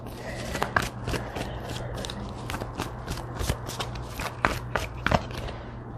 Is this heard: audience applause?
no